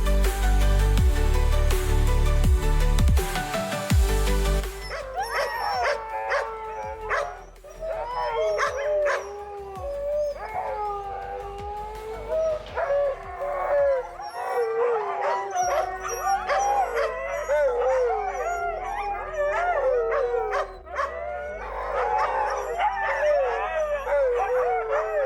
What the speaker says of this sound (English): you can hear them from far away as the Huskies are very active and social animals and love howling to each